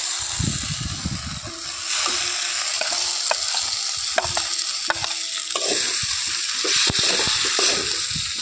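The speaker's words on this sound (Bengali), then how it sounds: "এখন মশলার মধ্যে ভেজে রাখা কুঁদলি আলু আর পেঁয়াজ দিয়ে দিচ্ছি" Fried kundri, potato and onion go into masala in a pan, with a steady sizzle and repeated clinking spatula strokes as the mix is stirred, close and fairly loud.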